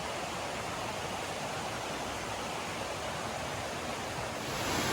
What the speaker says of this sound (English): There's the water stream.